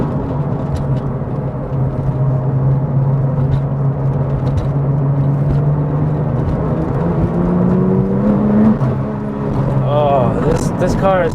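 A Porsche GT2 heard from inside the cabin gives a sustained engine drone that rises steadily in pitch under hard acceleration, with rushing road and wind noise and a short voice toward the end.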